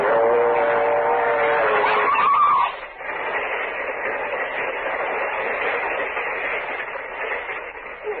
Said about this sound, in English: The train! It's not coming down your track. It's coming down this one!